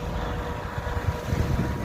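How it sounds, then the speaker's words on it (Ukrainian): Strong autumn wind roars and buffets the microphone in a steady low rumble over a village garden plot being ploughed, with gusts swelling louder toward the end. "Вітер такий великий."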